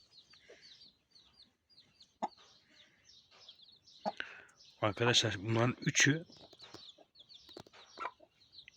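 Village chicken and Indian turkey chicks peep faintly in quick, scattered chirps, while someone talks over them near the middle.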